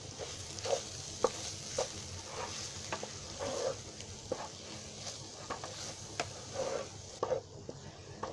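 Field beans, potato, spices, mint leaves and coriander are stirred in a cooking pan, with repeated scraping strokes over a soft sizzle, close and fairly quiet.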